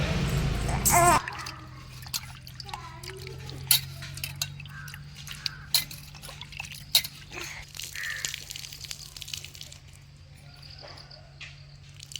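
Snail meat gets rinsed in water in a pot, with soft sloshing, splashes and occasional clinks of a vessel in a village kitchen, preceded by a brief burst of talk and faint background noise.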